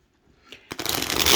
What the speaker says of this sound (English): I do like to riffle shuffle my workhorse decks